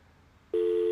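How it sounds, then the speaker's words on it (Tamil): A phone's steady electronic ring tone for an incoming call starts suddenly halfway through and holds loud and constant after a quiet room. "மறுபடியும் வேற ஒரு நம்பர்ல இருந்து கால் வருது."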